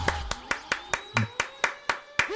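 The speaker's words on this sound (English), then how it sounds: "You deserve a clap for that." A single person claps about ten times in a steady, even rhythm, close and crisp, with a brief murmur of speech partway through.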